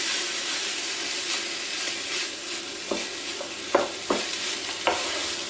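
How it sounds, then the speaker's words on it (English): Vegetables are stirred into beef mince frying in a pan for a pasta bolognese. A constant sizzle and hiss run throughout, with several distinct scrapes and knocks of the spoon toward the end, and no voices. "So I'm just stirring the vegetables in through the meat."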